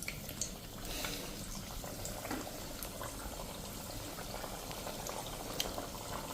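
Sorghum flour fritters bubble in hot oil with a dense, even fizzing and crackling that carries steadily throughout, faint and close, with no voices.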